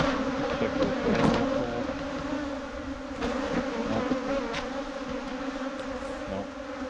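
Agitated honey bees buzz loudly and continuously around an opened hive during a colony check ahead of almond pollination, a dense close swarm drone with occasional louder swells as bees pass near.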